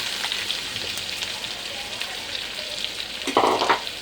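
Chopped large onions and cumin seeds fry in a pan with a steady, dense sizzle and a brief stirring scrape near the end.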